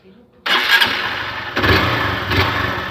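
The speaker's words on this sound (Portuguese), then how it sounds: "ligou a motoca" A Honda Fan 150 motorcycle engine starts up close after a quiet lead-in, catching into a loud broadband idle with steady low rumble, then rising in two brief surges as it is revved.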